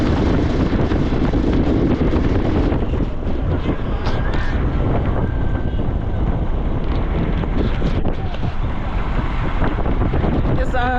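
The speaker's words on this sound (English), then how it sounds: "I'm here, right here, on a motorbike, and I'm heading somewhere." Motorbike ridden along a countryside road near Oyugis, a constant loud roar of wind buffeting the microphone over the low rumble of the engine, with a voice talking faintly underneath.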